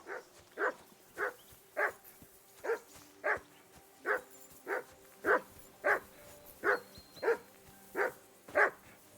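A dog in Kingdom Come Deliverance II barks in a steady run of about fifteen sharp, evenly spaced barks, fairly close and clear over a quiet background.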